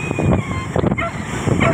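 Strong storm wind buffets the microphone in gusts, a broadband rumble that swells and drops through the short span, with rain-soaked outdoor ambience during a typhoon.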